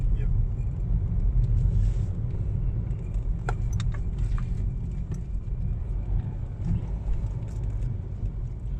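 A car drives along a narrow, dark forest road at night, its steady low engine and tyre rumble filling the cabin while people talk over it, with occasional small rattles.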